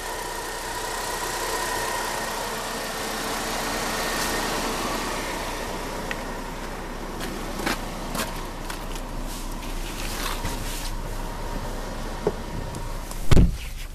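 A 1999 Dodge Stratus engine idles steadily at close range with a smooth, even hum, joined near the end by a brief clunk like a door.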